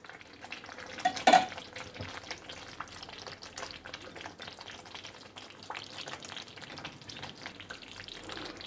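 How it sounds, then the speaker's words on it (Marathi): Masala gravy for paneer korma sizzling and bubbling in a pan, with a steady low frying hiss throughout and a brief louder burst of sizzle or stirring near the start; no talk. "आता साधारण 2 ते 3 मिनिटं मी हा मसाला चांगला शिजवून घेणार आहे।"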